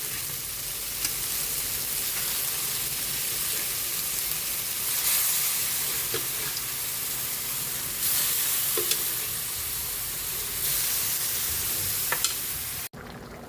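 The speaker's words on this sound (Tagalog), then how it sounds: "Kumukulo na yung ating ginisang munggo." Steady bubbling and sizzling from a pot of sautéed mung bean stew with tomato boiling on the stove, continuous and close, with a few small clinks near the end.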